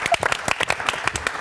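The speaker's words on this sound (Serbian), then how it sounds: "veliki aplauz" Audience applause during a Serbian TV entertainment show, broken claps scattered across a short burst with voices mixed in over the noise.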